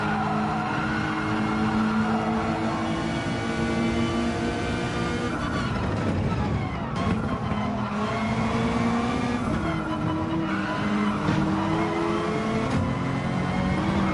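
A race car in a video game on a Dragon Gardens track: a loud, steady engine drone with shifting pitch, dipping under hard braking midway with a brief scrubbing tire skid, then building again.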